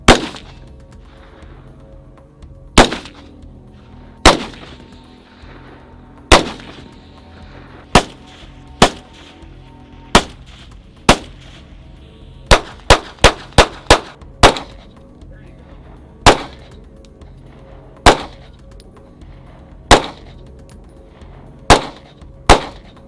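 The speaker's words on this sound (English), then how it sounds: "Well, Shane, we just did a lot of shooting" Gunshots from several guns being fired outdoors, sharp loud cracks spaced a second or two apart with a quick burst of five rapid shots midway, each ringing briefly, with no talk over them.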